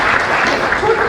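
Clapping from an audience at a residents' welfare association meeting in Delhi, a dense, steady burst of applause lasting about a second, loud and close with voices mixed in.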